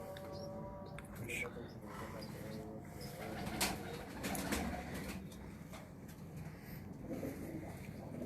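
Pigeons coo softly on a rooftop loft in Faisalabad, faint low murmuring calls in the background while people talk nearby throughout.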